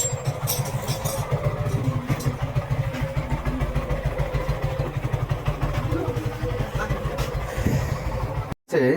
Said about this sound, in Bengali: এই যে বাইক হচ্ছে এটা সুজুকি জিক্সার